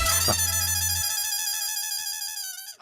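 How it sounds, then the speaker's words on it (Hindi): A phone rings with a steady electronic tone that holds for a few seconds and then cuts off with a short click, heard alone without talk. "लगता है उन्हीं का फोन आ रहा है"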